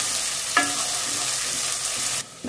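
Curry leaves, dried chillies and onion sizzle and fry in a pan for sambar, a steady hiss with a brief scrape of stirring, close and alone before it cuts off.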